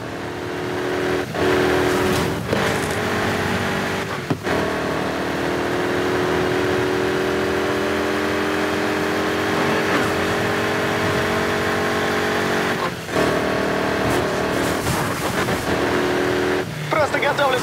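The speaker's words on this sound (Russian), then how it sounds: "Вот это гонка!" Race car engines in the video game Need for Speed Heat, a sustained loud engine roar with shifting pitch and a few sharp breaks as gears change or impacts hit, under occasional talking.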